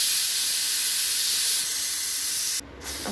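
A pressure cooker whistle blasts out a loud, steady hiss of escaping steam while pappu chaaru with mixed vegetables cooks, then cuts off abruptly near the end, leaving a quieter kitchen.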